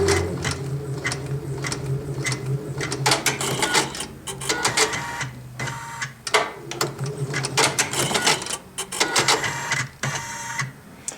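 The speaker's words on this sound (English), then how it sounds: "The machine's going to do everything for me, so I can walk off and leave this machine. It's going to finish embroidering this out." Janome MB7 embroidery machine stitching out a design, a fast steady mechanical chatter close by with brief pauses and rhythmic bursts of needle and carriage movement.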